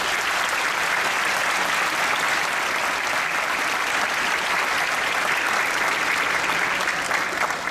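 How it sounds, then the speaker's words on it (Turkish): Sustained, dense audience applause for a youth choir at a municipal Atatürk commemoration ceremony in Şile, loud and steady throughout with no pauses. "Bu evlatlarımıza şöyle kuvvetli bir alkış alabilir miyiz lütfen?"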